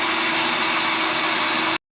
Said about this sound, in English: we're going to bolt it in by using a drill